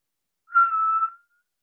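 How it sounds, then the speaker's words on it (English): A single clear whistle from a person, one steady sustained tone lasting about half a second, close and isolated in silence. "He whistles."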